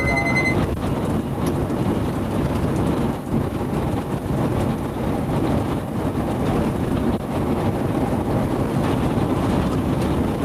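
Strong wind buffets a vehicle driving on the highway, a steady loud broadband roar of gusting air and road noise running throughout without a break.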